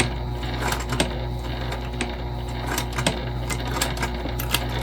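A Juki TL2010Q sewing machine stitches leather about 1/8 inch from the edge, running slowly and steadily. It gives a continuous low hum with faint, regular needle clicks and no talk.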